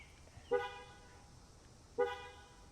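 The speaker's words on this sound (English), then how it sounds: "the horn lets you know that the car is securely locked and the alarm system is on" A 2021 Mazda CX-30 gives two short horn chirps as its doors lock and the alarm arms, spaced about a second and a half apart, somewhat distant and moderately loud over quiet surroundings.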